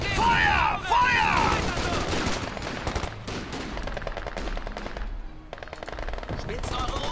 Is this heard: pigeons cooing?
no